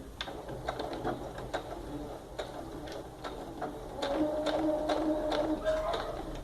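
A home sewing machine runs a short backstitch to lock a seam on a simple zippered pouch, giving a steady close mechanical whir with faint ticking, louder in the second half.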